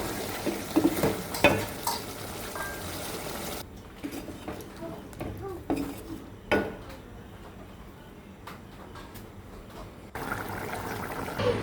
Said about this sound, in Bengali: এইবার আমি মাংসটাকে একটু ধরে এবং কিছুক্ষণ ফুটিয়ে নামিয়ে নেবো